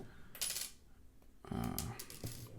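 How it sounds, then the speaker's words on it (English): A small metal SIM ejection tool pops the SIM tray out of a Microsoft Surface Duo phone, giving a few light, close metallic clicks and taps in short bursts with quiet gaps between them. "we'll go ahead and get a SIM ejection tool, and we will pop a T-Mobile SIM card in here"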